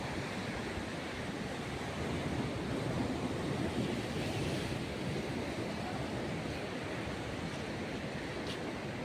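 Steady, broad roar of sea waves washing against the shore at Worli Sea Face, Mumbai, on a rainy day, continuous and fairly loud, with no breaks.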